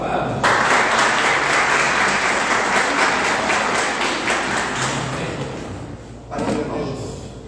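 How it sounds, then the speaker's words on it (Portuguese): Loud applause fills a church worship service, with strong sustained clapping and some thumps that taper off, stop suddenly, then resume briefly near the end. "Vamos aplaudir ao Senhor bem forte, vamos."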